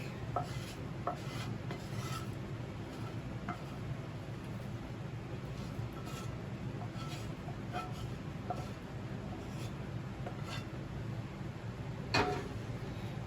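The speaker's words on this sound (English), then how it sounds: "You want to stir all of this in" A spoon steadily stirs a thick mixture of egg, flour, onions and garlic, giving soft rubbing, scraping strokes with occasional faint clicks, quiet and close, without talking.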